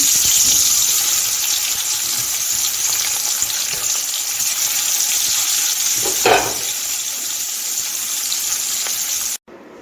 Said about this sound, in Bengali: এখন আমি মাছগুলি ভেজে নেব। তার জন্য আমি মাছটা দিয়ে দিচ্ছি।